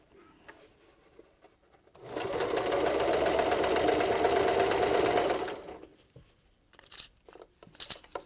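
Sewing machine stitching through thick layered surgical face mask fabric with flannel, a steady fast whirring run of about three and a half seconds that starts and stops abruptly, with quiet handling noises before and after.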